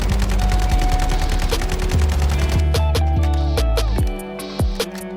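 Sustained automatic weapon fire in Call of Duty: Modern Warfare, a loud rapid stream of shots for about four seconds, followed by a few scattered single shots and mechanical clicks.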